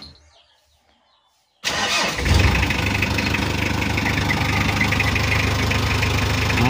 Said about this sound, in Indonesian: Ini kita hidupkan mesinnya.